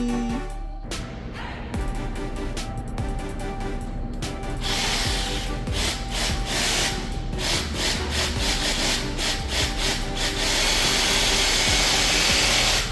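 Continuous loud sawing through wood on a boat, a steady rasping buzz of a power saw with rhythmic strokes, close up and alone without talk.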